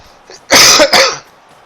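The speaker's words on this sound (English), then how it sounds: "Aside from don't cough so much" A streamer coughs into the microphone, two close, harsh bursts in quick succession after a faint throat sound, then quiet.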